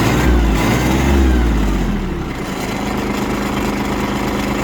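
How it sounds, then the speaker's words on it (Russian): A Kubota GB200 mini tractor engine runs steadily at close range, first with a deeper revving chug that then settles into an even idle rumble. "Работает двигатель очень хорошо"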